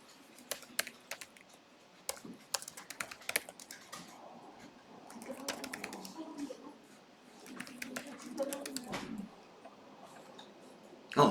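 Computer keyboard typing with scattered sharp key clicks, a few quick bursts and pauses, recorded fairly close and clear, with some faint low murmuring in the background.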